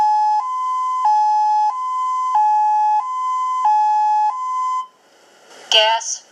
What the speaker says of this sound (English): The Emergency Alert Notification System will alert you to a gas release